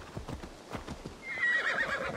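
Horse hooves clip-clopping in the Assassin's Creed Valhalla video game, a steady walking gait close by, followed by a loud whinny that rings out over the hoofbeats near the end.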